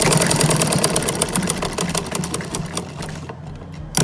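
A tailor's sewing machine hums in a fast, steady run while stitching a seam on ladies' trousers, then slows and fades out toward the end.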